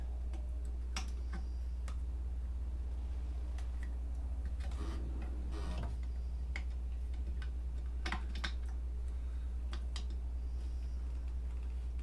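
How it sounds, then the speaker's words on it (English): An Allen key working the truss rod of an Epiphone Les Paul Junior guitar, giving scattered small metallic clicks and ticks at close range over a low steady hum, with no talking. "Loosen this truss rod."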